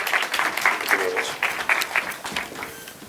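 Audience applause at a live ICT summit fills a hall, a dense steady clatter of many clapping hands with no voices over it, holding for about three seconds.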